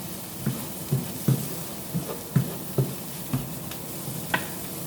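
Onions frying in a pan over maximum high heat, stirred with a steady rhythm: repeated scraping strokes roughly every half second over a continuous sizzle, close and moderately loud, no talking.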